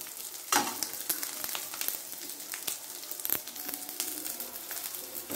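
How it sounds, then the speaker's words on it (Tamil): Onions sauté in a hot pan for tomato sambar, giving a steady close sizzle with occasional stirring scrapes and pops, no voices. "வெங்காயம் கொஞ்ச நேரம் வதங்கட்டும்"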